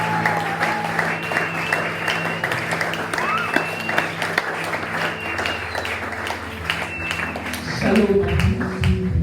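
A church congregation at a Sunday service claps and acclaims the Lord, with scattered applause and voices rising under music, steady at moderate level, then shifting into a louder sung or shouted tone near the end.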